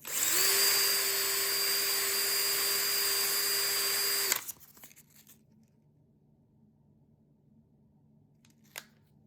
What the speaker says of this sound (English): What I do is I put them in the drill,